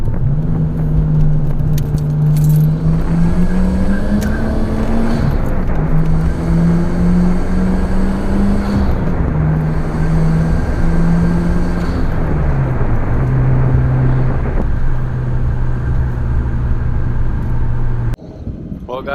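A Nissan Stagea RS Four S wagon with Atessa ETS all-wheel drive accelerating hard, its engine note climbing in pitch, dropping at each gear change and climbing again, loud and close from inside the cabin before cutting off near the end.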